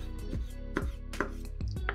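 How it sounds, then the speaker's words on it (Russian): Knife chopping orange flesh into pieces on a cutting board, several crisp close knocks at an uneven pace with no talking. "Мякоть апельсина нарезаем кусочками."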